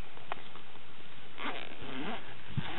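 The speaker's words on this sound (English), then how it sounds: "It just opens with one zipper." A survival kit bag's zipper is pulled open in one quick rasping run, close and fairly quiet, preceded by a small tap.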